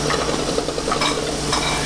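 Vegetables for island-style corned beef hitting a hot pan, giving a steady, dense sizzle with light stirring and utensil scrapes throughout, close and fairly loud with no talking.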